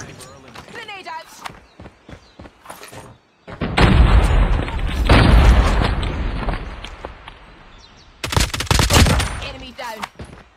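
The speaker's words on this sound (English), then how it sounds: "Frag out. Grenade out." Call of Duty Mobile search-and-destroy match: scattered gunshots and footsteps, then a loud grenade blast with rolling rumble, a pause of quieter shots, and a final burst of rapid automatic gunfire; voice callouts occur in the game.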